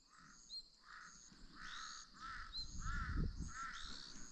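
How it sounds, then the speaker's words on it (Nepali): Several birds call outdoors, a series of repeated crow-like caws arriving in a steady rhythm, fairly faint and distant, with low rustling and wind noise rising toward the end. "चराचुरुङ्गी चाहिँ मजाले कराइरहेछ है कस्तो मजाले"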